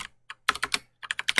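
Rapid bursts of computer keyboard typing, close and crisp: a couple of single taps, then two quick clusters of keystrokes separated by a brief pause.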